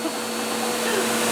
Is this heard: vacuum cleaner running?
yes